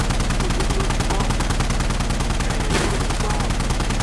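Continuous, loud, dense gunfire in the shooter game Insurgency Sandstorm, rapid automatic bursts with no pause throughout and a brief burst of voice partly under the shots.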